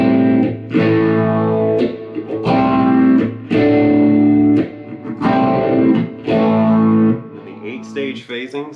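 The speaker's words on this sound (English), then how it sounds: "The deep phase on the 4-stage phasing setting sounds like this." Electric guitar run through a phaser pedal on a deep four-stage phasing setting, sweeping and swirling over a series of loud, sustained chords with short breaks, ending in a few lighter picked notes.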